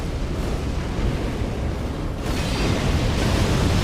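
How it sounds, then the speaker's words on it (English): A boss in Dark Souls III sets off a loud explosion and follows it with a blast attack, giving a sustained, dense roaring rumble that swells louder partway through. "It's got the explosion and then it shoots basically a blast over."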